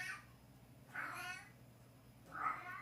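A pet cat meows three times at spaced intervals, each call rising and falling, fairly faint against a quiet indoor room with a low hum underneath.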